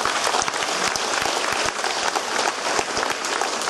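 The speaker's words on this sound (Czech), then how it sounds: "takže jim taky zatleskáme." Loud, dense applause from a theatre audience, sustained clapping with sharp individual claps throughout, close and continuous without talk.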